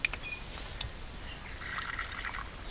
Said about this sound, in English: I need to mix up some sugar water and then put it in this little cotton ball